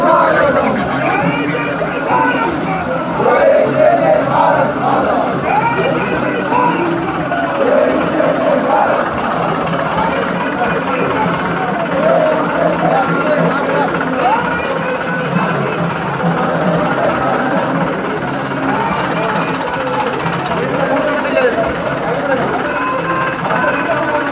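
A large crowd gathered at a road show, a steady loud roar of massed voices with engine rumble beneath, with speech over it throughout.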